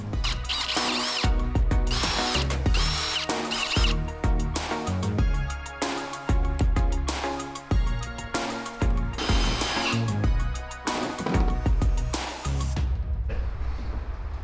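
A power drill removes the side mirrors from a GMC Sierra AT4 pickup truck, whirring in a rapid series of short bursts and pulses, close and loud, with no talk.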